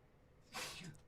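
A single sneeze bursts out mid-clip, moderately close, against quiet room noise at a pool match.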